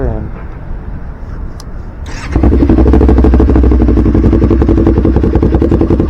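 A 2022 Kawasaki Ninja 400 KRT motorcycle cranks over and its engine catches, settling into a steady, loud, close idle after a couple of seconds of wind noise, with a voice briefly speaking at the start.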